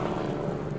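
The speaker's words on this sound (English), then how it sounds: "Excuse the helicopter." An air ambulance helicopter passes overhead with a faint, distant steady rotor drone above a Cornish coastal clifftop path.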